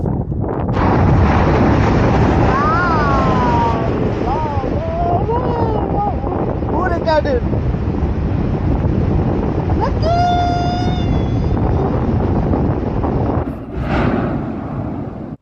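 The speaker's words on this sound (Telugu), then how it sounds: "ఆ గాలి కిందకి లాగేస్తుంది ఏదో" Strong wind roars at the crater rim of Mount Yasur, an active volcano in Vanuatu, buffeting the microphone in a loud continuous rush, with a few brief voices and tonal calls in the middle.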